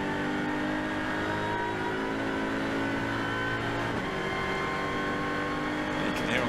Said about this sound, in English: You can hear on the gear changes the engine will labour as they're going up here with the gradient.